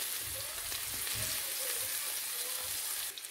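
Salmon fillets frying in a pan give a steady, close sizzle with soft crackles and bubbling throughout, with no voices over it.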